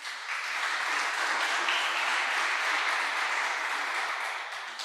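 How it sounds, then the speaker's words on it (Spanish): Congregation applause fills a Christian church service, a steady, dense wash of many hands clapping at moderate distance, holding evenly for about five seconds with no talk over it. "Dale un fuerte aplauso al Señor."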